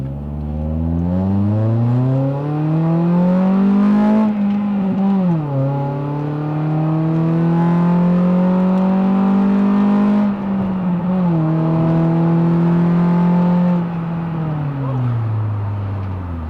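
A 2013 Scion tC in Itasha edition accelerates hard from inside the cabin, its engine drone climbing steadily through several gear shifts with brief dips between them, loud and close with no talk over it.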